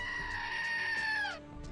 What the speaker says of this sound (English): It's my screaming goat,